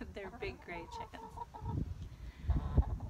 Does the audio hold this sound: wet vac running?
no